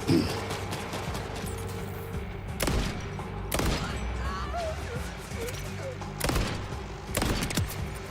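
Sniper rifle fire in the video game Borderlands 4 lands as about four sharp, loud, booming cracks spaced a second or more apart. A voice and steady game ambience continue underneath.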